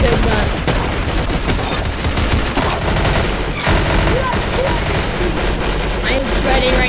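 Dense, continuous gunfire from a gun in a shooter video game rattles loudly and nonstop, with rapid shots overlapping throughout.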